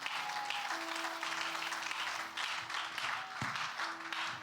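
A church congregation applauding together, a steady dense wash of clapping with some sustained tones ringing beneath it, continuous and fairly loud throughout.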